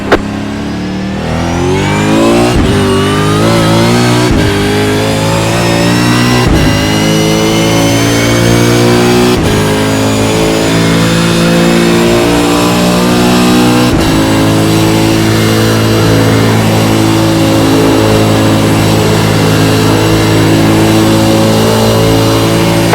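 V8 Supercar engines race in iRacing at Homestead-Miami, a loud, continuous multi-car roar with rising and falling revs and sharp shifts every few seconds, sustained close by throughout.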